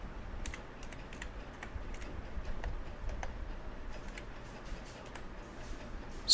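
Clicking keys on a computer keyboard as a command is typed at a Windows 10 command prompt, a steady run of light, close taps over a quiet background, with no voices.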